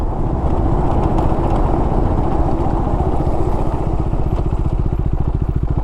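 A modified KTM Duke 250 motorcycle engine runs steadily nearby, a loud rhythmic thumping putter with a faint rattle, and no one talking.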